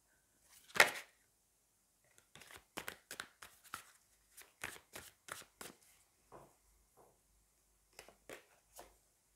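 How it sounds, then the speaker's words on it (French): Tarot cards shuffled by hand in a quiet room, a loud riffle up front followed by a run of short, crisp card flicks and slaps coming in uneven bursts, close and alone. "je vais prendre des cartes."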